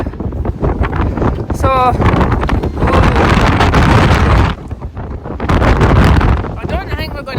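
Strong wind on a Munro summit in Glen Callater roars and buffets loudly against the microphone in gusts, with someone speaking briefly under it.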